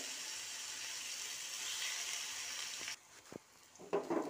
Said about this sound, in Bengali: একটা একটা করে দিয়ে ভেজে নেব।